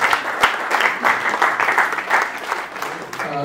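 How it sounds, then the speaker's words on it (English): Audience applause for the security services of Anambra State at a Ministry of Industry media briefing, a steady, fairly loud wash of many hands clapping that carries on without a break for about three and a half seconds. "may I ask you all please to applaud the security services in Anambra State"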